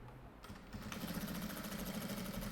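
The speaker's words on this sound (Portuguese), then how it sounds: "Posso passar aqui uma costura de segurança" A sewing machine starts after a brief quiet moment and then runs a steady, fast stitching buzz, close and even, sewing a safety seam on fabric with no talk.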